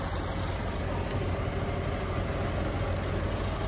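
A Scania Super truck engine runs at a steady idle, a loud, continuous low diesel rumble with no change in pitch and no voices.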